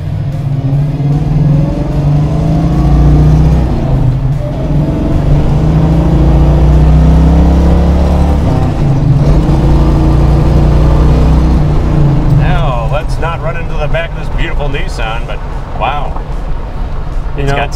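A 1979 Chevrolet Camaro Z28 with a four-speed manual shifter pulls away and accelerates, its engine a steady low rumble under near-constant conversation from the people inside.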